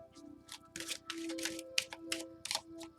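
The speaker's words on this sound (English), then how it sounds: "Last shuffle." A deck of tarot cards is shuffled by hand in a series of quick riffling bursts, each a crisp papery flutter, close and clear against a faint background hum.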